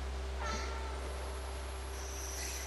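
Cat meowing in the video game Stray: a short, faint meow early on and another soft one near the end, over a steady low electronic hum.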